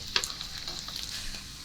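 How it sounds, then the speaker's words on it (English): Cabbage and onion fry with bacon in a pan, a steady close sizzle with a sharp clink of a utensil near the start and soft stirring scrapes. "So keep stirring it,"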